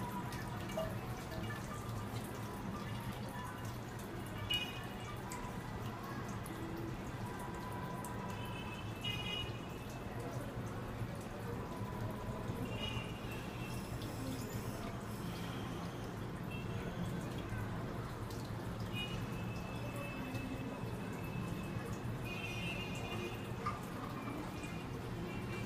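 DC30A-1230 12V micro brushless DC pump moving water during a flow rate test, a constant low hum with trickling, dripping water layered over it throughout, steady and close.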